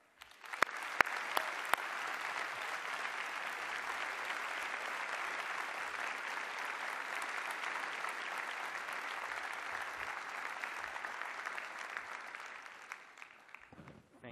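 Sustained audience applause at the 2016 NYU Abu Dhabi graduation ceremony welcomes the keynote speaker, a dense, steady clapping that swells quickly and holds for about thirteen seconds before tapering off.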